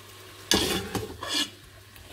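Beef for goulash searing in a hot pan, sharp bursts of sizzling and scraping as the meat is stirred and moved, close and brief, with quieter gaps between.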